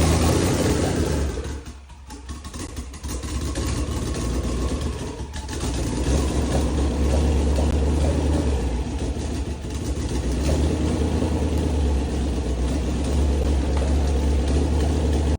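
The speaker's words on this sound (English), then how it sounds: "We're about to start this twin turbo Mustang for the very first time." A twin-turbo Mustang V8 catches and settles into a loud, steady idle close by, its deep rumble holding throughout with a couple of brief dips in level; no one speaks.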